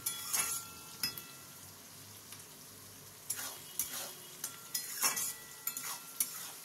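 Chili chicken pieces frying and being stirred in a pan with a little salt, giving a low steady sizzle broken by repeated scraping stirs and clinks of the spatula, close by and alone with no talk.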